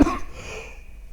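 A single short cough, close and sharp, followed by a quiet room with a faint lingering tone.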